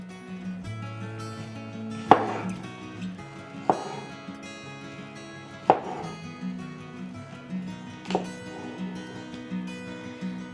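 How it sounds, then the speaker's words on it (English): A knife slicing through peaches on a board in a home kitchen, with four distinct cuts spaced about two seconds apart over steady background music. "I'm just gonna slice my peaches."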